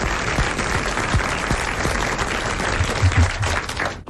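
A studio audience on a 1980 French TV show applauds, dense and close, the clapping sustained before it cuts off abruptly.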